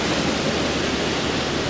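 Big breaking white water at a surf competition under a gray sky makes a continuous, dense roar of ocean surf with no voices.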